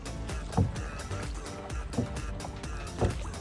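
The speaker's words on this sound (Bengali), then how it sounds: "জলের সাউন্ডটা একবার জাস্ট শোনো" Paddle strokes from a small kayak slosh through the water in three evenly spaced splashes about a second and a half apart, close and fairly soft.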